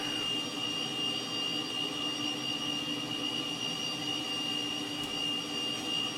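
Steady, close whine and roar of the Cessna T-37 Tweet's twin jet engines idling after start-up in Microsoft Flight Simulator 2020, an even, unbroken drone with a high tonal whistle throughout.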